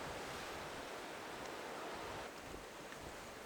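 Sea waves surge steadily against the rocky cliffs of Gwaneumdo, a small island off Ulleungdo, Korea, a continuous broad wash of surf and wind with no voices.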